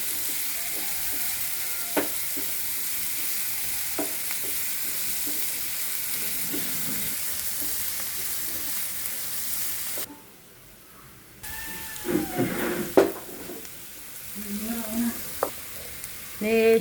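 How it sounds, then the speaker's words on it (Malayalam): Green beans and grated coconut stir-fry in a pan for beans thoran: a steady close sizzle with occasional scrapes and taps of a spoon, a short quiet gap, then clattering stirring and a brief tonal squeak. "കുറച്ച് ഇളക്കി കൊടുക്കാമേ."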